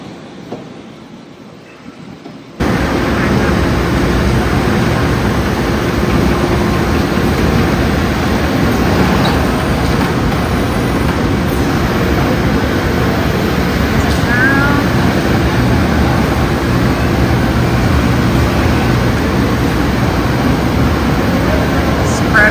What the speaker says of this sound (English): Spreader machine.